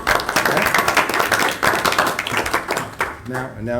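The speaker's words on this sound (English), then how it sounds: "I think we ought to give him a round of applause." Clapping from a small audience at a school district board of education meeting, brief and scattered, with speech overlapping the claps.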